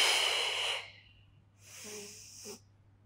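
Breathing during a Pilates workout: a strong, hissy exhale that fades out, a pause, then a softer inhale with a slight snort, close and alone.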